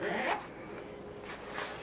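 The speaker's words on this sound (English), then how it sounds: "here is a zipper pocket to put little secret things in" A zipper on a zipper pocket in a handmade fabric book being pulled, a close raspy zip followed by softer rubbing of fabric.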